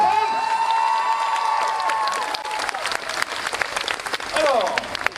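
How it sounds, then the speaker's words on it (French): Talk show studio audience bursts into loud clapping and some cheering for a guest, close and sustained, with musical tones at the start and a voice near the end. "C'était Thibaut Pardot, on peut l'applaudir."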